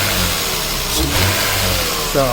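A warmed-up Toyota Supra engine runs smoothly and loudly nearby with a steady mid-pitched hum and slight rises in revs, and a voice briefly speaks at the start.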